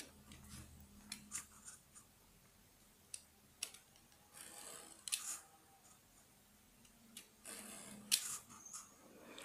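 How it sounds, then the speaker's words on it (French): Small strips of duct tape cut along a ruler, a quiet scattering of crisp snips, taps and rustles at close range with pauses between, no talking. "Je prends ma règle et je découpe mes petites bandes."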